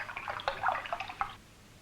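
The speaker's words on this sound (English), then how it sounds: "Pour the water into the glass," Coloured water pours from a jug into a glass in a short, faint, splashing trickle that lasts about a second and a half before fading to quiet, with no talk over it.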